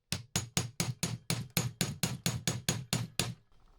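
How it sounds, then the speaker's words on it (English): A small hammer taps the metal of a carburetor from a 1999 Polaris XCR 800 snowmobile in a steady, even rhythm, about a dozen sharp, ringing strikes close by, then stops. "Little tap action with the small hammer."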